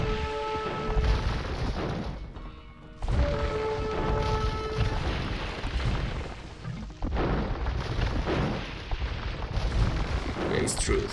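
Bomber cannons firing in a real-time strategy game set in a Korea war map, heavy booming blasts and battle noise running continuously and loud throughout.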